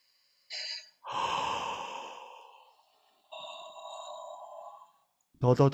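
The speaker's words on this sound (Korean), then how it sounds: "자, 어둡게 허 소리 내면서 마십니다" Two drawn-in breaths voiced with a dark, breathy 'huh' quality during a voice-coaching exercise for spasmodic dysphonia, each lasting a couple of seconds and close to the mic, followed by a brief voiced sound at the end.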